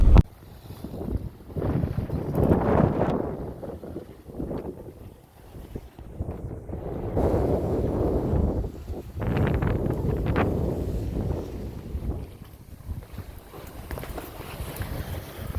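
A sailboat under way in wind, leaving New Providence in the Bahamas, with rushing wind and water wash against the hull and gusty microphone buffeting, steady and fairly close throughout, no talk.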